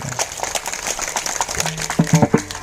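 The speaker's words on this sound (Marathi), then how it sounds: "एकदा टाळी वाजा" Audience clapping at a Marathi kirtan, scattered hand claps from the crowd, fairly close, with a voice and some tonal sounds coming in toward the end.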